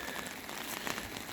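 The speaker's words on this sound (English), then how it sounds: "we're just getting rain instead" Steady rain falling on the Suffolk coast, a dense, even hiss of drops on surfaces that stays constant and fairly loud with no voices.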